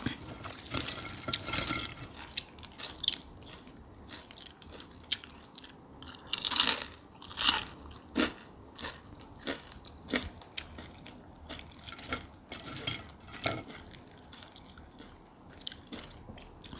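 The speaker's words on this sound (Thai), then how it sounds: "แซ่บๆที่นั่ง กรอบดีดี ปูน้อยซุปแป้งทอดกรอบ" Batter-fried small crabs crunched and chewed up close, with sharp crisp bites repeating irregularly between quieter chewing.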